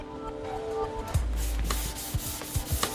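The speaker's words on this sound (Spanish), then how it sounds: "Preparamos el coche, lijamos todos los bordes y alisamos la superficie para poder pintarla" Short scraping strokes of sandpaper rubbing over the edges of a Koenigsegg Agera car chassis, a few quick passes close by after a brief hiss.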